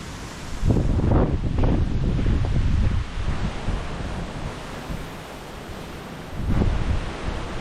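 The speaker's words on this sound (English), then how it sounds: "Pretty wild at the top. Very windy, if you can hear me." Strong wind at the top of a climb buffets the microphone in loud gusts, easing in the middle and surging again near the end, with no talking.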